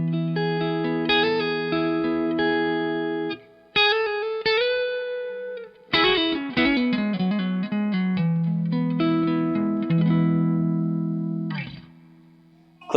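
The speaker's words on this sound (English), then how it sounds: "So here I am playing on the neck of this Stratocaster." Clean Stratocaster electric guitar fitted with 60s-style pickups, played on the neck pickup: ringing chords and single-note runs with sustained tones and a few short gaps, close and alone with no talk.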